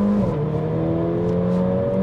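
A Mercedes CLA 45 AMG's 2.0 turbo engine roars close by at full throttle with a steady, strained tone, holding high revs as it pulls hard.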